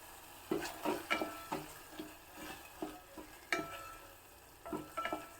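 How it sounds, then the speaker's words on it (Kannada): Green chilies and coriander leaves frying in oil in a pan, with repeated stirring scrapes and light clinks over a soft, steady sizzle, close and moderately quiet. "ಮತ್ತೆ ಒಂದು ಎರಡು ಮೂರು ನಿಮಿಷ ಚೆನ್ನಾಗಿ ಫ್ರೈ ಆಗಬೇಕಿದೆಲ್ಲನೂ ಎಣ್ಣೆಯಲ್ಲಿ"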